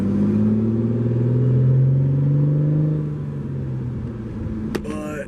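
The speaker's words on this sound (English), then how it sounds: "There's literally a truck that pulled up." A nearby truck idles and pulls up with a steady low engine rumble that swells and then settles, loud and close, with no talk.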